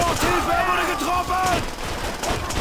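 Gunfire from an SVT rifle in the video game Call of Duty: World at War, loud shots and bursts of in-game battle noise running through the whole clip, mixed with other game sounds.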